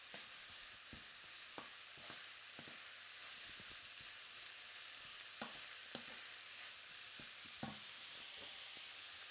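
Pork mince sizzles in a frying pan as a utensil stirs and breaks up the clumps, giving a constant hiss with scattered scraping clicks, close and fairly quiet, no voices.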